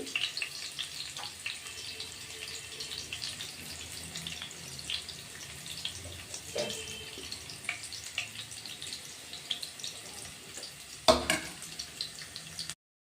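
Garlic fries in a pan while cooking an onion and tomato masala paratha, giving a soft, steady sizzle with occasional light clinks and a sharper knock near the end.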